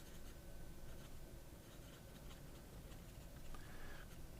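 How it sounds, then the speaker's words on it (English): A Sailor KOP fountain pen with a medium nib glides over paper, quiet continuous scratching with small ticks between strokes, close and alone. "this is a Sailor KOP medium nib"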